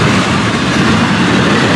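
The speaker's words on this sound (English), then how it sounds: "oh, long train tonight" A long train rolls steadily past close by at night, its wheels clattering over rail joints in a loud, continuous rush.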